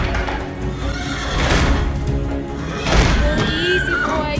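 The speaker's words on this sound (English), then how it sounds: "Ty, I have to let the horses out." Horses whinny loudly and repeatedly, with heavy hoof thuds and stamping underneath, agitated and close.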